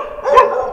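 A single short, loud dog bark, close and fairly clear, with nothing else around it.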